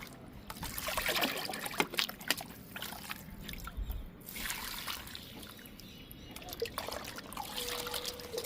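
Homemade liquid fertilizer trickles and splashes onto the soil around drumstick plants in a garden, a steady uneven pouring with wet spattering, fairly close.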